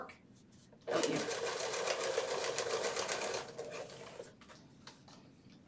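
Home sewing machine stitching drapery panels: a steady, fast mechanical whir starts abruptly, runs for about three seconds close and loud, then stops, with faint room noise before and after.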